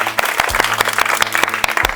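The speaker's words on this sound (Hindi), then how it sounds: "चलिए, जोरदार ताली मारिए तो इनको लिए" Close, loud clapping from a village crowd cheering a participant in a football challenge, uneven bursts of hand claps over a low hum, with voices audible underneath.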